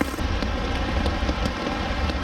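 Heavy rain drums on a tarp at a wild camp, a dense, continuous close patter with scattered sharper drop hits and no voices.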